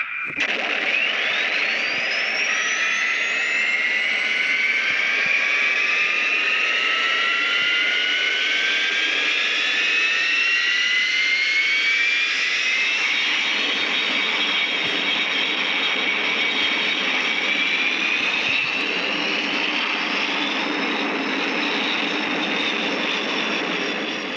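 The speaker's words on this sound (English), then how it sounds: "Stand by to start up all aircraft." Jet and aircraft engines start up on the deck of an aircraft carrier, a loud sustained roar with rising turbine whines that climb steadily in pitch and layer over one another as several engines spool up together.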